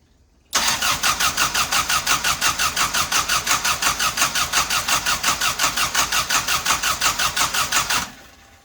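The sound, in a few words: Mopar car engine cranking and trying to start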